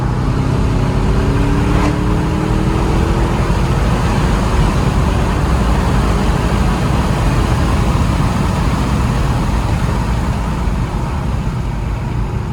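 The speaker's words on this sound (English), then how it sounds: "And that is a 600 horsepower Cayenne Turbo" A high-mileage 2011 Porsche Cayenne Turbo with 600 horsepower produces a loud, continuous engine roar that stays dense and steady throughout, with a brief rising whine early on and no voices.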